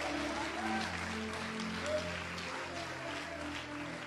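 A church congregation at a conference in Abidjan applauds and cheers steadily, a dense, fairly even wash of clapping over sustained music tones, with no speech.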